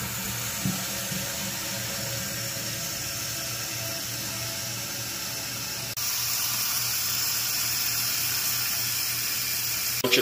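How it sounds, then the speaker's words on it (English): Water refilling a toilet tank after the supply is turned back on: a steady hissing rush of flowing water that continues throughout and grows louder and fuller about halfway through. "I'm gonna turn the water back on."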